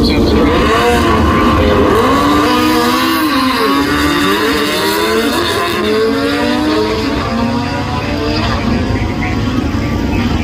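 A Kawasaki H2R motorcycle roars loudly at a drag racing track, its engine pitch repeatedly sweeping up and down through hard revving for about ten seconds without a break.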